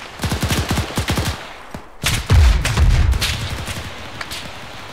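Gunfire during a military-style operation: a rapid burst of shots opens, then a heavier loud volley and sustained rumbling fire follow, close and dense with no talk over it.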